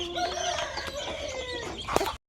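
Country chickens on a native-breed poultry farm cluck and call from a nearby coop, with overlapping bird calls and a sharper squawk near the end before the sound cuts off.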